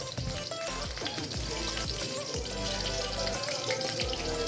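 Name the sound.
garlic frying in oil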